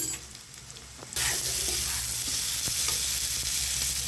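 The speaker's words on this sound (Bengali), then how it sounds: "তার মধ্যে আমি এই মশলাটা, হলুদ গুঁড়াটা আমি দিয়ে দেবো। দিয়ে এবার আমি এটা খানিকক্ষণ নাড়তে থাকবো।" Spices with turmeric hit hot oil in a pan and jump from a quiet hiss to a loud, steady sizzle, with light scraping stirs running through it.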